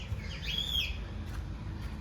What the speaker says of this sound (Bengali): এখানে কিন্তু অনেক পাখি রয়েছে